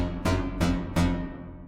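Three sharp percussive hits, each swelling into a dense, fully wet stereo algorithmic reverb from Softube's TSAR with softened highs, the last hit's tail washing out and decaying slowly.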